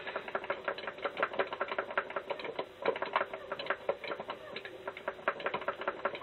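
Rapid, irregular plastic clicking of joystick and buttons on a NeoGeoX handheld console controller during gameplay, close and fairly loud, with faint game sound beneath.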